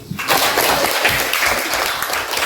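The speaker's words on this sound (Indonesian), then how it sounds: "Nah, tepuk tangan untuk Putri." Classroom applause for a student, a short burst of many hands clapping at close range that starts abruptly and stays loud and dense.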